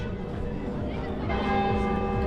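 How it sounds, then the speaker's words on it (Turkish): A church bell or gong rings in Mulhouse, France, with sustained metallic tones swelling and humming, and people talk over it. "Sana bu gong neyi hatırlatıyorum Erviş?"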